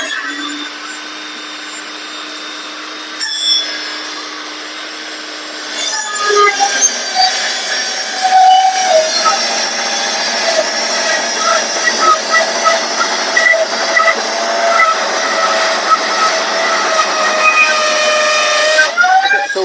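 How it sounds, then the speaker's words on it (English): An Evolution R255PTS table saw rips wood lengthwise with a loud, steady whine and airy hiss. A quieter running tone comes first, then the sound jumps in level after about six seconds and holds close and continuous. "I will switch the vacuum off so you can pay attention to the noise the saw"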